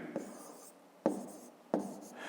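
A pen writes numbers on paper during a multiplication exercise, three distinct scratchy strokes tapping down close and quiet, with no talking.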